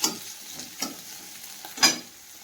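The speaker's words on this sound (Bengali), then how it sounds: "সব সবজি কেটে নিয়েছি, তারপরে ভাজছি।" Chopped vegetables frying in a pan for a flattened-rice pulao, giving a low steady sizzle broken by three louder stirring scrapes, close and without speech.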